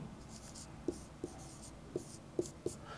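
A pen writes an equation by hand in several short, quiet, closely miked strokes with soft taps between them.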